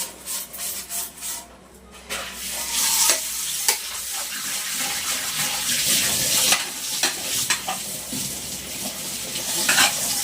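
An aluminium container is scrubbed with black soap, giving repeated wet rubbing and scraping strokes with splashing water from a running tap. The sound is close and irregular, pausing briefly near the start.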